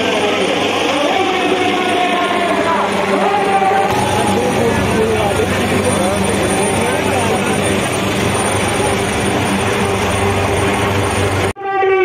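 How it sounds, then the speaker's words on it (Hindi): A helicopter arrives and comes in to land at a political visit. Its rotor and engine roar stays steady, loud and dense throughout, while someone talks over the noise. "देखो ये आ रहा है उनका हेलीकॉप्टर और अभी उतरेगा देखो"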